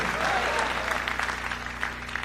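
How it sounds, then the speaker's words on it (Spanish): A church congregation claps strongly during a religious testimony service, dense applause filling the short stretch with a few voices rising over it. "Dele fuerte ese aplauso al Cristo de la gloria."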